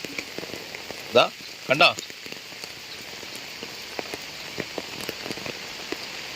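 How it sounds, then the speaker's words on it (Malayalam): Heavy monsoon rain pours steadily over flooding paddy fields near Kozhikode, Kerala, a continuous hiss of drops on surfaces throughout, with someone speaking briefly over it. "ഭയങ്കര മഴയാ."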